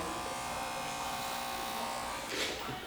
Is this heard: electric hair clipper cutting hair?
yes